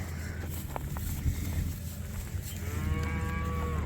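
A mama cow in a calving-season herd lets out one long, fairly close moo, rising in the last second over low rumbling background noise.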